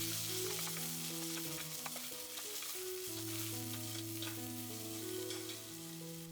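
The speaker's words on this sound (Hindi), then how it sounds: "इसे भी प्याज के साथ अच्छे से भूनें ताकि अदरक लहसुन का कच्चापन निकल जाए" Onion and ginger garlic paste fry for mutton bhuna masala in a cooker, giving a constant, close sizzle with occasional stirring scrapes under tonal background music.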